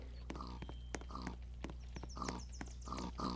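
A pig grunts in the video game Catastrophia, short snorting grunts repeating in uneven bursts alongside faint clip-clop footsteps, moderately quiet and close.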